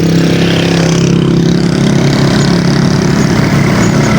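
A motorcycle engine runs steadily at idle in a remote mountain setting, a continuous low rumble held close and loud with no change in pace throughout.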